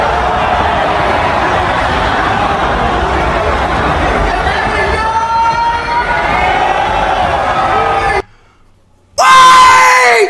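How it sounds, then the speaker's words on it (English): A stadium-like crowd roars continuously, yelling and jeering in a loud sustained wash of voices, cuts out briefly to near silence, then returns loud at the end. "Are they saying boo the whole time?"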